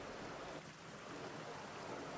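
Fresh water rushes into a kitchen grease separator tank through an automatic solenoid intake valve, a steady, broad hiss of flow that stays even and faintly distant throughout.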